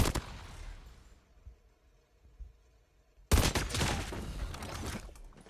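Rapid bursts of automatic weapon fire in a shooting video game, a loud volley at the start fading into quieter scattered shots, then another heavy sustained burst that breaks in suddenly and keeps going.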